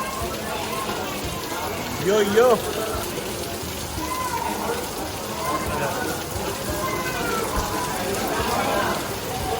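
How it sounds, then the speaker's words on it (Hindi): Heavy rain pours in a steady hiss in Goa, India, with people talking and exclaiming over it. "बहुत तेज बारिश हो रही है और हम फंस गए हैं यार"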